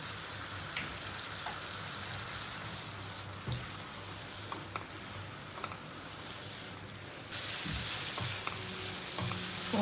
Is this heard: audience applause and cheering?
no